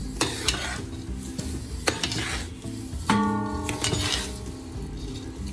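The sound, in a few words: stirring ground dry fruits into panjiri in a pan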